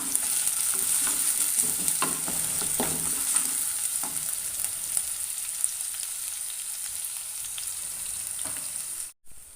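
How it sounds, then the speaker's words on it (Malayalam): Crushed ginger and garlic sizzle hard in hot oil for a fish curry while a spoon stirs and scrapes the pan in repeated strokes. The frying runs loud and steady until it cuts off abruptly near the end. "ഒരു ടീസ്പൂൺ ഇഞ്ചി ചതച്ചതും ഒരു ടീസ്പൂൺ വെളുത്തുള്ളി ചതച്ചതും ഇട്ട് കൊടുക്കാം"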